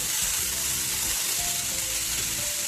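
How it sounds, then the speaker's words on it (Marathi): Chopped onion, capsicum and sweet corn sizzle in hot oil in a pan, a steady close frying hiss with faint stirring underneath. "थोडं तेल गरम झालं की त्याच्यानंतर आपण बारीक चिरलेला कांदा, त्याच्यानंतर बारीक चिरलेली शिमला मिरची, नंतर कॉर्न."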